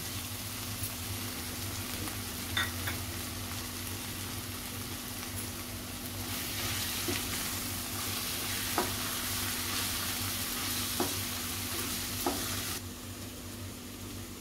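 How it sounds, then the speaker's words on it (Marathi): Spices, including homemade Koli masala and coriander-cumin powder, sizzle loudly in a pan while being stirred and mixed, with occasional spoon scrapes and taps over continuous close frying hiss. "चांगलं मिक्स करून घ्यायचं आहे।"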